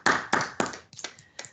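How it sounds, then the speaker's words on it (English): A few people clap after a colloquium presentation, giving about six separate, fairly close claps with gaps between them rather than a full round of applause. "I invite everyone to give you another round of applause for this"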